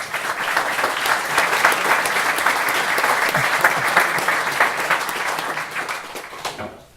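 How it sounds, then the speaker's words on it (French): An audience at a conference breaks into enthusiastic, sustained applause, thick steady clapping lasting about six seconds before fading out near the end. "moi je propose que vous les applaudissiez à tout rompre"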